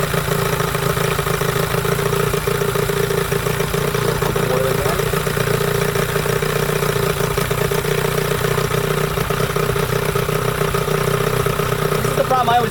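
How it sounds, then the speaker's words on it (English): A 1998 15hp Johnson outboard motor running steadily with a continuous droning hum and fine rapid pulsing, loud and close for the whole stretch, with no talk. "I do love the way this motor runs"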